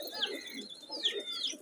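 Colored pigeons coo close by in Dera Ismail Khan, soft low throaty coos repeating in a loose rhythm, mixed with a few faint higher chirps.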